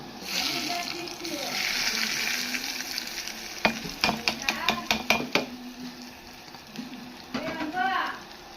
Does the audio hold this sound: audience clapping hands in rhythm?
no